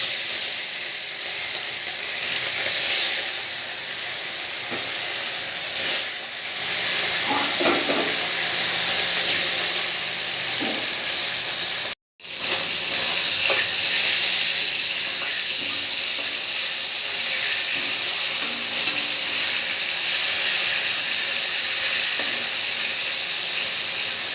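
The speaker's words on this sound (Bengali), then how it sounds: "তো তেল গরম হয়ে গেছে, এবারে মাছগুলো ভেজে নেব" Pieces of salted fish fry in hot oil in a wok, giving a steady, loud broadband sizzle and hiss that runs without a break, broken only by one brief dropout partway through.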